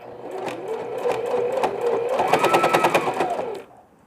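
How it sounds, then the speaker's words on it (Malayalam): Close, steady whir of a sewing machine stitching through a folded double rib on a newborn's ear-covering knit cap, the rhythmic needle chatter speeding up before stopping abruptly. "ഇനി ഫ്രണ്ടിലത്തെ ഭാഗം ഡബിൾ റിബ് ഫോൾഡ് ചെയ്ത് സ്റ്റിച്ച് ചെയ്യുക."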